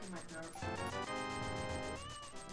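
A house cat meows in a drawn-out, wavering cry over steady game music, close to the microphone.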